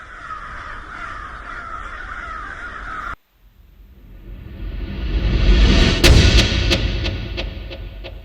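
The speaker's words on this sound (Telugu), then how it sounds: "మొత్తం ఒకేసారి ఏవో పక్షులు, గుడ్ల గూపలు మొత్తం ఇట్లా సౌండ్ చేసుకుంటూ బయటికి వెళ్తాయి" A flock of birds bursts out together, harsh crow-like caws and flapping rising to a dense loud clamor with repeated sharp calls, following a quieter ambient stretch and a brief pause.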